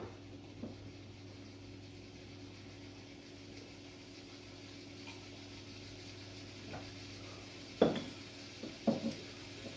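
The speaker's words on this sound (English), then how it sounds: "Hear the sizzle coming along." Chicken Thai green curry sizzles softly in a pan under a steady hum, while a wooden spoon scrapes and knocks against the pan in a few brief, clearer strokes near the end.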